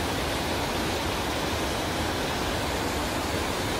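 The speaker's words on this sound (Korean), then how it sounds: "거기서 아마 이쪽으로 물이 흘러나오는 것 같습니다" Mountain stream water pours down steadily in Jirisan's Baemsagol valley, a dense unbroken rushing roar with no pauses, heard close and alone.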